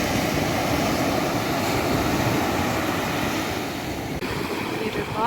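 Black Sea surf and waves at an Odesa beach on the last day of September, a loud, continuous rushing wash of breaking water and spray, with no clear talk over it.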